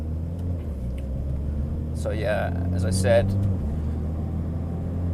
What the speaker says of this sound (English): I'm just letting the car warm up, and the gearbox and everything